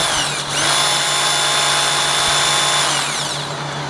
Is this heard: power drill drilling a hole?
yes